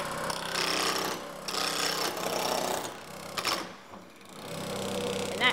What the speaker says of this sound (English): you can go ahead and turn on your lathe